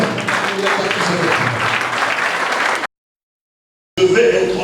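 A church congregation applauding during a sermon: loud, dense clapping and cheering that fills the space, then a sudden cut to silence before the applause resumes.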